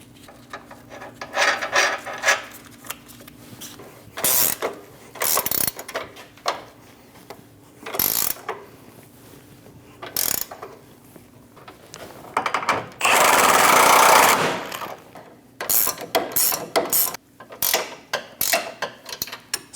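Hand ratchet tightening nuts onto control arm bolts on a 2011 or later Dodge Durango front suspension, heard as repeated bursts of close, crisp clicking with short pauses, one longer dense run near the middle, no talking.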